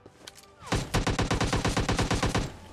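An AKM assault rifle firing in PUBG Mobile Lite, a loud close burst of about fifteen rapid evenly spaced shots after a few faint earlier pops, with no talking.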